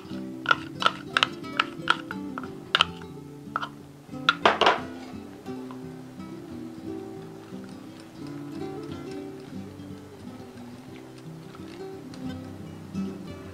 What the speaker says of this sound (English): we've got that whisked together and we're going to set that aside